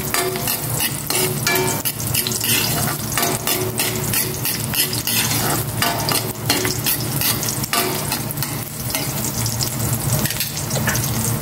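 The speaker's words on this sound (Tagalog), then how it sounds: "Maglagay na ako ng cooking oil. Igisa ko na tong bawang." Garlic sautés in hot cooking oil for a pork and bitter melon dish, a steady loud sizzle with crackling and occasional stirring scrapes running throughout, no voices.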